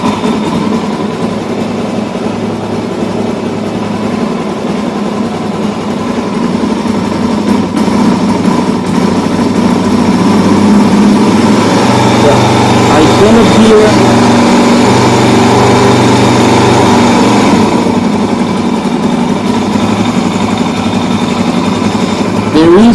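A Suzuki DRZ400 motorcycle fitted with a manual cam chain tensioner runs at a steady idle, close and loud, then revs up midway with a brighter, rising engine note.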